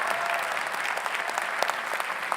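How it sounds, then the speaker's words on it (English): Applause from the crowd at the WPI undergraduate commencement ceremony in 2019, a dense steady patter of many hands clapping throughout. "we'll clap some more for you."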